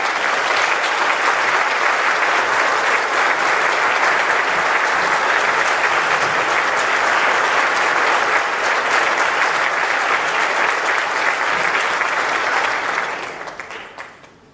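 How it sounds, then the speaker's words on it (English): Concert audience at a 1976 Yuba City High School tribute concert giving loud, dense applause that holds steady for a long stretch, then fades out at the end. "Can I have a big round of applause?"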